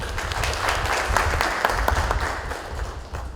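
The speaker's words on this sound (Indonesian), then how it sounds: "Boleh tepuk tangan buat kita semua." Applause from the audience at a regional coordination meeting in West Papua, steady dense clapping that carries on for the whole stretch over a low room rumble.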